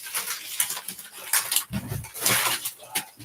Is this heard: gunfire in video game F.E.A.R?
no